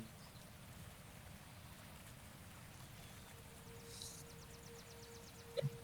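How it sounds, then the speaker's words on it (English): Soft, steady rain and trickling water fill the background, with a faint birdlike chirp near the end, from an ambience app. "The calming sound of water and birds."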